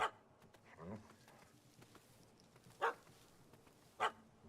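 A dog barks in The Witcher 3 video game, several sharp barks spaced apart, fairly close and standing out over quiet ambient game sound.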